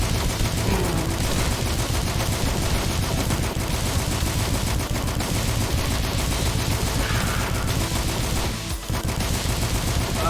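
Relentless rapid gunfire from a weapon boosted by a fast fire totem power-up in the video game DUSK, a dense, loud, unbroken stream of shots lasting the whole stretch.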